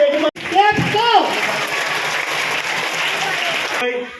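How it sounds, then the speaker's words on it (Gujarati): Applause from an audience at a girls' education and school enrollment celebration in an AMC school in Meghaninagar, Asarva, a sustained burst of clapping that runs steadily for several seconds, with a voice speaking briefly over it at the start. "તાળીઓ ગગડી બજાવશું"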